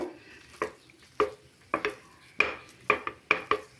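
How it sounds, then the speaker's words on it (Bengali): A spoon scrapes and knocks against a pan, stirring red lentils with elephant foot yam in a series of quick, uneven strokes, with short pauses between clusters of clanks. "ওলটা মসুর ডালের সঙ্গে ভালো করে একটু নাড়াচাড়া করে নেব"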